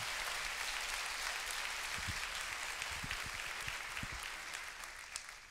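A church congregation applauding during a Portuguese sermon, a continuous crackle of many hands clapping at a distance, fairly quiet and slowly fading toward the end, with a few thumps beneath.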